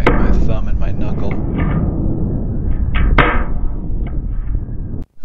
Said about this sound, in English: Here's a quick example of how well that sound transfers through the line, in this case as the line is snagging my thumb and my knuckle.